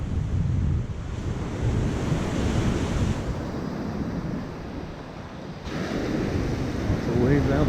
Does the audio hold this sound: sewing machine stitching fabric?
no